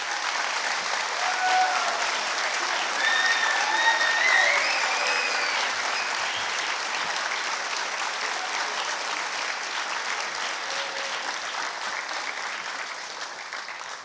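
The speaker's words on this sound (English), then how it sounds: "Can we give the teachers a round of applause" A graduation ceremony audience gives sustained, full applause for the teachers, a dense wash of many hands clapping evenly, with a few faint whoops or voices rising above it before the clapping slowly thins.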